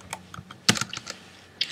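Quick typing on a computer keyboard, a handful of crisp, uneven key clicks close up with one sharper strike in the middle.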